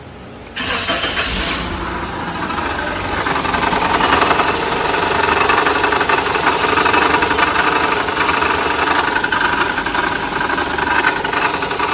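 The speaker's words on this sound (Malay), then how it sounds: "Drawing noise ataupun grinding noise" A Perodua Axia's engine cranks and catches, then keeps running with a loud, rough grinding and knocking clatter that goes on steadily.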